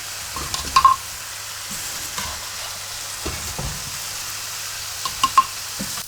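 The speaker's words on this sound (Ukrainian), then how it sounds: "Пасируємо, пасируємо овочі, картоплю, коренеплоди, цибульку. З перчиком, сількою на олійці в чесничку." Vegetables, potatoes, root vegetables and onion sauté in oil with garlic, pepper and salt in a large pot, giving a steady close sizzle with occasional scraping and clinking stirs.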